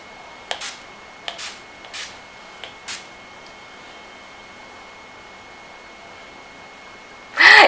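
NYX setting spray is pumped onto a face in five short, crisp misting bursts at a steady rhythm, followed by quiet and then a loud rustle at the end.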